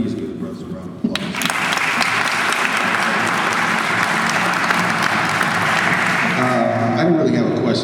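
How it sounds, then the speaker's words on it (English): An audience at a youth summit bursts into applause after a soft start, the clapping swelling to a full, sustained round that carries on steadily to the end. "Everybody, please give the brothers a round of applause."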